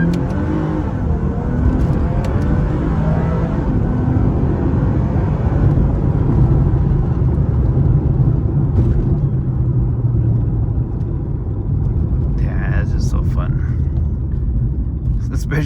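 A 2006 Lexus IS350 pulls away in first gear from a green light, its engine a loud, sustained, close rumble with a throaty drone throughout.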